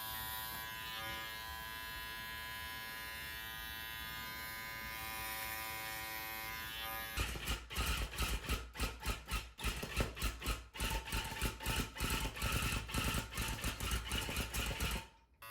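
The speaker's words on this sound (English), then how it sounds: "here I'm just using my shaver to kind of shape out different areas" A carpet shaver shapes the pile of a tufted rug, first a steady electric buzz, then a choppy run of rapid close bursts as the blades bite into the yarn.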